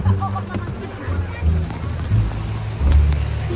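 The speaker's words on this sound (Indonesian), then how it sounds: "Kehujanan, guys." Rain falls outdoors in a steady patter with rumbling surges, heard close while people move through it, with voices partly mixed in.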